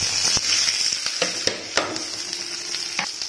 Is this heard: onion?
yes